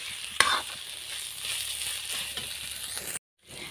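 Banana flower fries with ground cumin, ground coriander and fresh coriander leaves, giving a quiet steady sizzle with one sharp crackle near the start and light stirring, then stopping abruptly before the end.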